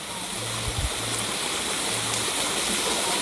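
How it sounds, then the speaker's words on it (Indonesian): A waterfall pouring into a pool beside a cave, a steady, loud broadband rush of falling water that fills the whole moment with no pause. "di sini ada air terjun, ada kolam"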